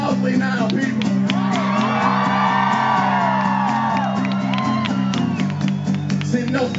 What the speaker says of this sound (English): It's appropriate to cheer loudly now